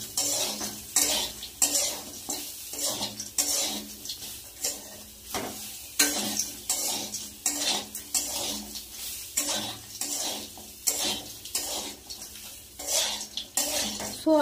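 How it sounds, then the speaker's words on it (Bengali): Soybean chunks and cashews frying in a pan, stirred with a metal spoon in a quick, steady rhythm of scrapes and clinks over a continuous sizzle, close by. "কাজু আর সোয়াবিনটা একটু ভেজে নেব।"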